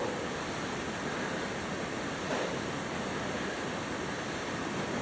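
Black engine oil drains from a 1951 Allis Chalmers WD tractor into a catch pan, a steady, unbroken pouring hiss that holds at an even, fairly soft level for the whole stretch, with no voices over it.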